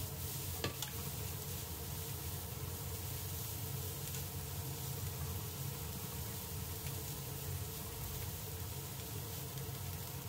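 Milk-based white sauce with ham and broccoli is stirred in a pan on the stove, a soft steady scraping and bubbling sizzle running continuously at close range, with no talking.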